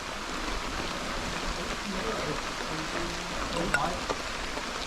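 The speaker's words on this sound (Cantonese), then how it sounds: "突然間落起暴雨啊" A sudden heavy downpour during a mountain hike on Phoenix Mountain, Shenzhen, makes a steady, dense rush of rain that holds evenly throughout, with faint voices in the background.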